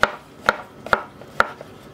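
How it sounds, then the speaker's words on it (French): A knife cuts through mushrooms into rounds on a board, four crisp evenly spaced chops, close and clear with no voices. "Je continue avec mes deux beaux champignons que je vais couper en rondelles comme ça."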